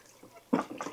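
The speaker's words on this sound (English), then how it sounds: "Then I'm just gonna rinse it right here in this water" Cut produce being rinsed in a basin of water in a home kitchen, soft splashing and swishing close by, with a brief quiet trickle followed by two louder sloshes.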